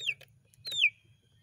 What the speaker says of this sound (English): Look at this poor chicken.